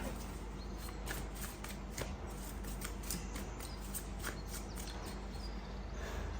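A deck of playing cards being shuffled, a rapid papery riffling that repeats in short bursts over a steady faint background hum.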